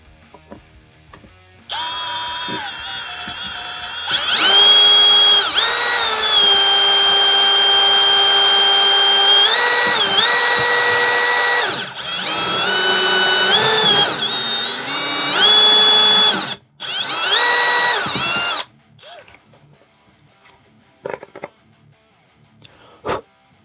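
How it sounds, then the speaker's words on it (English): A power drill bores a hole through a leverless controller case, a loud high whine in several sustained bursts with short pauses, then winding down to quiet handling sounds. "So what I'm gonna do here is I'm gonna drill a hole for that pass-through to fit."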